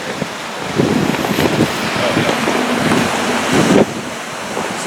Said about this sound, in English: Sounds like it's pretty windy.